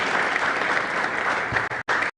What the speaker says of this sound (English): A round of applause, please, as they join me on stage